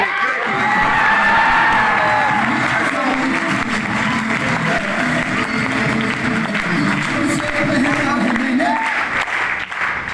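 A large crowd at a live speaking program in Amaravati applauds and cheers, with dense continuous clapping, whoops and shouting sustained at full loudness throughout, and voices mixed into the roar.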